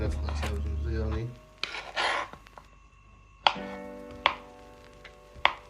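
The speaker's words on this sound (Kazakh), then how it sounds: "сәбіз өстіп кубик қылып турап аламыз" Boiled carrots being diced into cubes on a board, a few sharp knife taps spaced apart, with a person talking over the start and background clatter.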